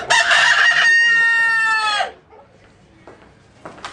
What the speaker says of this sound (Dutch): Voor kleine geldbedragen wordt er ingezet op het aantal keren dat hun haantje zal kraaien.